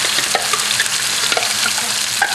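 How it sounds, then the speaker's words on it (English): Sambal spits and sizzles in hot oil in a wok, a loud, dense, continuous frying hiss close up, with occasional crackling pops and stirring scrapes and no talking. "now I've got some oil heating in the wok"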